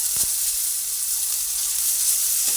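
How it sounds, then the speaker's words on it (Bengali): Tomato and okra frying gently in a little oil over a low gas flame, giving a steady soft sizzle throughout with a couple of faint stirring knocks. "টমেটোটা দিয়ে দেওয়ার পরে আবার একটু ভালোভাবে নেড়ে ভেজে নিচ্ছি"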